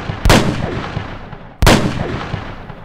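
Two sharp, loud gunshots crack about a second and a half apart, each trailing off in a long echoing decay.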